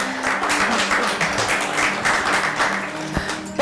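Studio audience applauding on the set of the Azerbaijani reality show Azerbaijan Fight Club, a dense, steady wash of clapping that holds at an even level for the whole stretch, with no talk over it.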